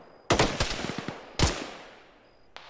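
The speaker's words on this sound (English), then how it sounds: "What are you shooting at?" Gunfire in the military shooter Arma during a ShackTac squad operation: a loud burst of rapid automatic shots, then a second single heavy shot a second later, with long echoing tails and a faint later crack.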